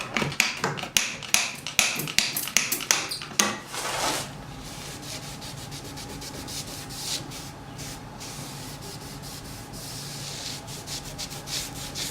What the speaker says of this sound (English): so the neck is now sanded